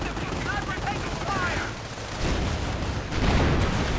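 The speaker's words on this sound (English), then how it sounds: "Snipers opening up." Sniper rifles open fire during a Panzer IV push in a 1v1 World War II strategy game battle, a dense, continuous crackle of gunfire at mid-distance filling the whole stretch without pause.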